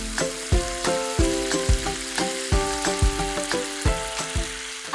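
Thick gravy for a stuffed bell pepper curry simmers and sizzles in a pan, giving a steady close-up bubbling crackle with regular soft pops throughout and no talking.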